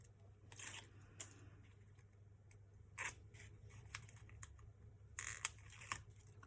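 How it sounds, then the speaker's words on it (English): Scissors snip foam tape on a slim line pop-up card, followed by faint crinkling and peeling as the backing comes off; soft, close, intermittent sounds over a quiet room with no talk. "I'm going to snip that off, remove my backing, and peel this down."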